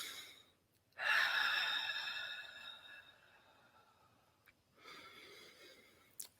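Slow, deliberately drawn breathing, a long airy exhale that fades gradually, then a pause and a second softer breath, close and quiet with no talking.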